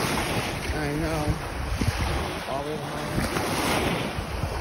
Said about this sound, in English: I just love listening to the sound of the ocean.